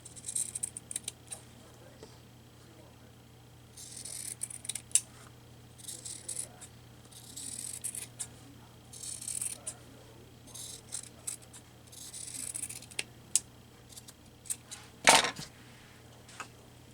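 Scissors snipping through paper and scrap material for a handmade junk journal, a series of short crisp cuts in bursts with quiet gaps, close by, plus a sharp louder clatter near the end.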